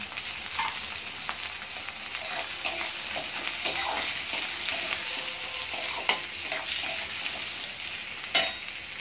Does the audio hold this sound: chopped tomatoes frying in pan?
yes